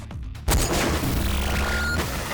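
A burst of gunfire in a JoJo's Bizarre Adventure anime episode opens with a sudden loud blast, then a dense rumbling volley that sustains and fades, with a sharp crack near the end.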